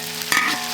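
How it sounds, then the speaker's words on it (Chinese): Minced meat stir-fried with ginger and garlic in hot oil for zhajiang noodle sauce, a short sizzle with a scrape of the spatula partway through, close and steady. "再下入肉末，给它炒香啊！"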